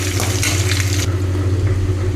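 Five eggs fry in oil in a pan, a close, loud sizzling hiss over a low steady hum; the bright crackle is strongest in the first second, then it settles into a duller frying noise.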